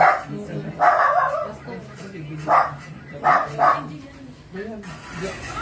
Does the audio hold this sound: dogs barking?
yes